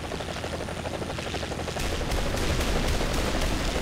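Bell AH-1G Cobra attack helicopter in War Thunder, a steady dense rotor and engine roar that swells louder midway, with repeated sharp gunfire bursts over it and no talk.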